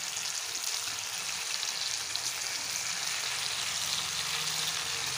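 Goat meat sautéing in hot oil with bay leaf, giving a steady, close, loud sizzle and crackle that runs unbroken throughout.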